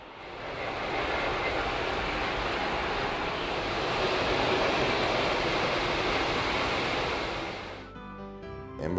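A Lionel model train runs with a continuous rushing, rumbling roar that swells slightly and then fades away near the end.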